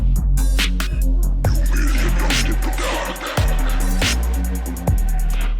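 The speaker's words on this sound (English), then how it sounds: "There definitely wasn't a bass sound like this in dubstep." A heavy, booming electronic bass with deep sub-low hits and buzzing upper texture, pounding in a steady rhythm with sharp drops at a few beats.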